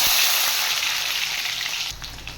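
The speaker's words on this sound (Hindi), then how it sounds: "तो पियाज भलसे फ्राए करने।" Onions frying in hot mustard oil in a pan for a country chicken curry: a loud, steady hiss and crackle of sizzling close up, easing slightly near the end, no voices.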